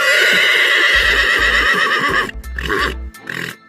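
A horse neighs loudly and close by, one long shrill whinny that breaks into shorter shuddering bursts, with hoof clip-clops and low snorting underneath.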